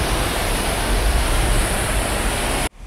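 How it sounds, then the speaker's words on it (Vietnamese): Water released from the Tuyen Lam lake reservoir gushes down like a waterfall, a loud, dense, unbroken roar that cuts off abruptly at the end. "Nước ở đây đổ rất là mạnh luôn á quý vị. Đứng ở đây mà còn nghe thấy tiếng nước chảy sập sình."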